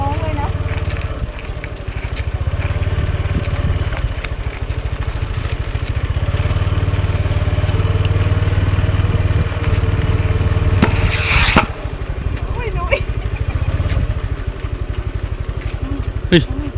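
A motorcycle running steadily along a roadside, a continuous low engine drone that holds for the whole stretch with a brief louder scrape or gust partway through.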